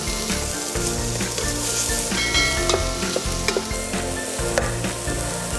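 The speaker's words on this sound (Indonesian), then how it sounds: "masukkan minyak goreng, tunggu hingga minyaknya panas, lalu masukkan bawang bombay. Tumis hingga bawangnya agak layu" Onions sauté in hot cooking oil for a baked lasagna filling, a close, steady sizzle with rhythmic stirring strokes and small pops throughout, no talking.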